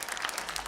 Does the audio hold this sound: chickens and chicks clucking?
no